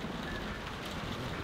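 Steady rain falls outside a barn in The Walking Dead video game, giving a constant dense hiss with no pauses or voices throughout the short stretch.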